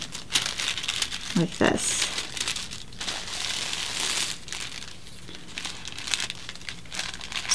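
Paper from a Simplicity 4762 men's vest sewing pattern crinkles and rustles up close as it is folded in half, in short bursts of crackling, while a person talks over it.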